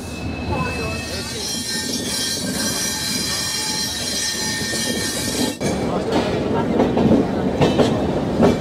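The Maharaja Express train rolls along near Jaipur with a steady rumble, a high metallic wheel squeal ringing through the first half, then rhythmic wheel clatter; people talk throughout.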